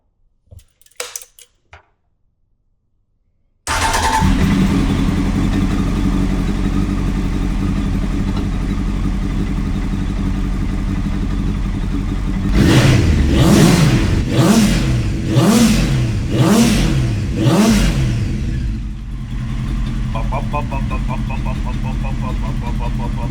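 A Honda CBR900RR Fireblade sport motorcycle engine starts after a few clicks, idles with a steady rumble, then revs sharply five times in a quick series before dropping back to idle.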